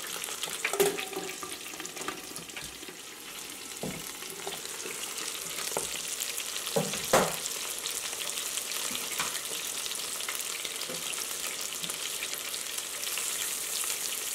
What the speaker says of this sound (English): So I'm gonna put 8 shrimps here, and this is gonna cook quickly, maybe about 2 to 3 minutes